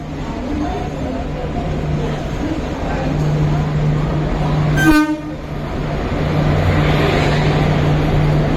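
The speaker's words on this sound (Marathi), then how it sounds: "फायनली आमची डेक्कन एक्सप्रेस आली आहे." The Deccan Express pulls into Kalyan station with a steady low rumble and a continuous hum, while a loud horn blast sounds near the middle amid platform noise.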